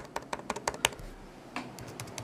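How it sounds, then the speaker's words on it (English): Typing on the butterfly keyboard of a 2016 MacBook Pro, a quick run of sharp, fairly loud close key clicks, then a pause and a few more scattered taps. "They sound a little loud to me."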